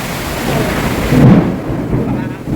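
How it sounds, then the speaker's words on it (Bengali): Heavy rain pours outside during a thunderstorm, a loud rumble of thunder swelling midway over the steady wash of rainfall, close and dominant with no voices. "বাইরে খুবই বৃষ্টি পড়ছে সাউন্ডটা একটু ইগনোর করবেন"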